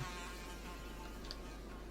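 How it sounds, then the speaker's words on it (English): A bee buzzes steadily in Minecraft, a faint, continuous insect drone sitting low behind quiet game ambience, with no one talking. "I hate the bee back there."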